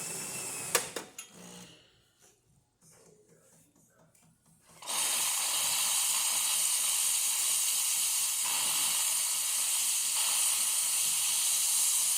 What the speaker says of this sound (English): Just to test the steam.